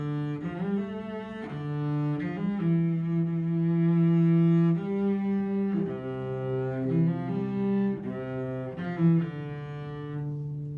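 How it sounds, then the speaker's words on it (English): Cello bowed in its bright upper-middle register, a heroic-sounding melodic line of sustained notes moving up and down, played alone, close and clear without talk. "here is the sound of the cello, that bright kind of heroic sound."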